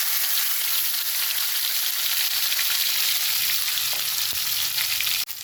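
Ingredients for hotel-style paneer masala fry in hot oil, giving an even, close, continuous sizzle with faint stirring near the end and no talk.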